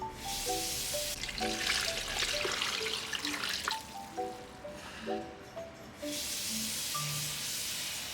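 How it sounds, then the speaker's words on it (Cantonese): Clean water running into an electric soup pot holding the ingredients for a morel, apple and Chinese yam soup, a steady splashing pour lasting several seconds with faint background music. "然後就加入清水。"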